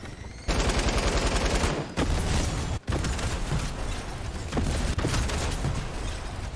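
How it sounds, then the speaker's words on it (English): An explosion in a video game set near a gas station: a loud, continuous roar of broadband blasts with sharp cracks and short dips, filling the whole stretch with no voices over it. "I did the action movie thing of walking away from the explosion without looking"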